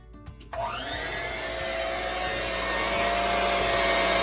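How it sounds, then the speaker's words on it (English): An electric mixer with beaters switches on in cupcake batter and runs steadily, giving a loud, continuous whirring whine that holds without pause, alone and without speech. "Now we're going to mix again."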